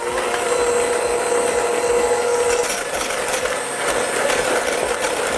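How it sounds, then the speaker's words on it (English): An electric whisk whips a mixture of vanilla, sea salt and powdered sugar toward stiff peaks, giving a continuous, fairly loud motor buzz with slight rattling and no speech. "we'll whisk this together until stiff peaks form"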